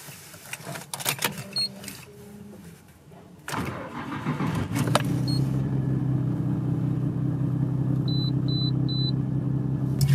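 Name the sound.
1995 Nissan Skyline GTR R33 engine cold start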